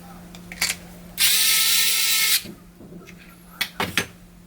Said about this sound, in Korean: 나사를 조여주면 끝.